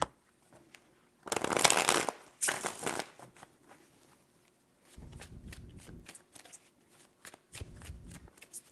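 Tarot cards are shuffled close up in several distinct bursts: two loud riffles, then softer shuffling and tapping, with short pauses between.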